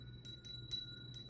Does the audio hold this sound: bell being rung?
yes